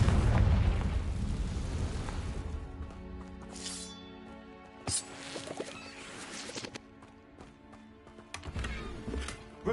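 A loud explosive blast from the Confringo spell in a wizard video game, a heavy opening boom that fades into a lingering rumble, followed by a few softer sharp pops and bursts.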